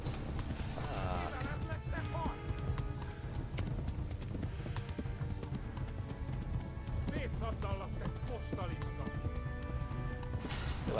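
A horse gallops in the medieval video game Kingdom Come: Deliverance, its hooves clip-clopping steadily and close throughout, mixed with other game sounds.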